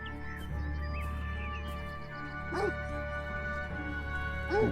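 A dog in the video game Beyond Eyes gives a few short barks and yips over a steady ambient game backdrop, with one bark near the middle and another, louder one at the end.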